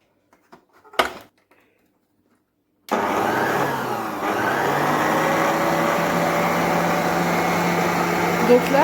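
An electric mixer kneads chocolate-filled beignet dough, starting after a few soft knocks and then whirring loudly and continuously close by, its steady motor drone shifting slightly in pitch partway through.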